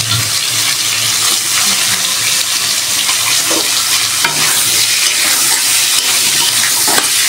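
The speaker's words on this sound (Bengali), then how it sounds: "এখন পনিরগুলো ভেজে নিয়ে হবে।" Paneer pieces frying together in a pan, a dense, loud, continuous sizzle with occasional stirring scrapes and no voices.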